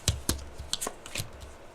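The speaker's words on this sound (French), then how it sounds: "On va découvrir donc les cartes." Tarot cards handled and laid out on a table, a few soft slaps and shuffling rustles in quick succession, close and quiet with no talking.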